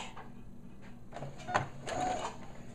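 A sewing machine runs a back stitch to lock a seam on a store-bought dress being made into a bellydance costume, giving a short, close mechanical whirring burst with a sharp click in the middle, over a faint steady hum.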